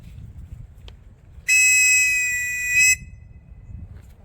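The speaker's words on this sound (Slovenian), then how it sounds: "Kako piskamo, kdo ve?" A loud, steady whistle blast lasting about a second and a half, blown close by at an outdoor summer survival camp for primary school children in Bloke, with a slight swell at the end.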